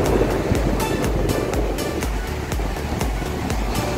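Sea waves washing onto the clean white-sand beach at Shiroda in Konkan, a steady roar of surf with strong gusty wind buffeting the microphone, no talking.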